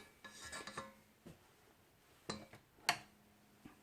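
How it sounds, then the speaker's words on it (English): Scraping of cake batter from a stand mixer's paddle while making lemon pound cake, a handful of short scratchy metal-and-spatula scrapes and clinks spaced out over a few seconds, close and fairly quiet. "Alright, now just scrape it on the paddle."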